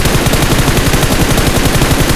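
Automatic gunfire in PUBG Mobile rattles out as a loud, continuous rapid burst of shots, dense and close, with no pauses throughout.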